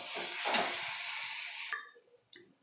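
Scraping and sizzling of masala being stirred in a hot frying pan, steady for a moment, then cutting out to near silence with a brief clink.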